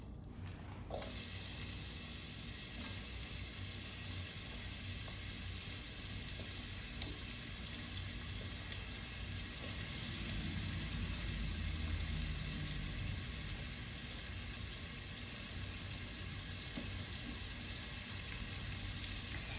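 Red onion searing in a hot pan for Kung Pao chicken stir fry, a loud continuous hiss and crackle running evenly throughout, nobody speaking.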